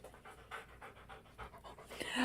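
A dog pants in quick, rhythmic bursts, breathy huffs close by and fairly soft, with a slightly louder flurry near the end.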